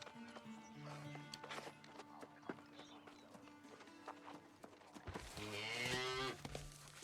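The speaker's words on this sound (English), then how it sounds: "definitely heard a cow" A cow in a video game lets out a loud, drawn-out moo near the end, preceded by quieter hoof clip-clops and faint ambient game sounds; no one speaks.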